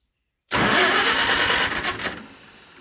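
A 1950 Farmall H tractor engine cranking over in neutral, a loud steady churning burst of about a second and a half that fades out, with no talk.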